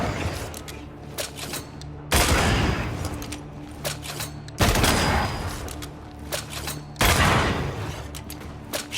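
Several heavy gunshot volleys ring out in Banishers: Ghosts of New Eden as shots are fired at a lantern. Each burst is loud and booming, arriving roughly every two and a half seconds over a rumbling game background.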